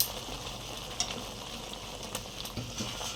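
Loitta fish frying with garlic-ginger paste and chopped tomato in a pan, a steady soft sizzle with a few faint scraping stirs, heard close and alone.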